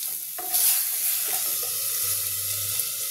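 Onion, garlic and dried chilli paste drops into hot oil with whole cumin for a pomfret curry, bursting into a close sizzle that keeps frying steadily while a utensil stirs.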